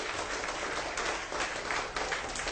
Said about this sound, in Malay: Beri tepukan kepada Icon.